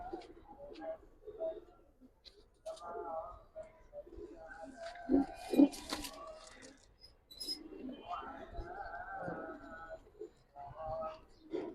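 Giribaz pigeons, a young pair in a loft, coo softly and scuffle in a fight, with wing flutters and bumps among nearby voices talking over them.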